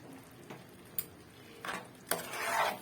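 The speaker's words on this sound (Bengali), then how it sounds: "আর টক দইটা দিয়ে এখন ভালো করে কষিয়ে নেব।" Spice paste with whisked sour yogurt being stirred and fried in a pan, soft close scraping strokes and a faint sizzle rising toward the end, no voices.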